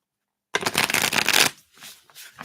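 A tarot deck being shuffled by hand during a live reading, about a second of crisp, rapid riffling, then a few softer card taps and rustles.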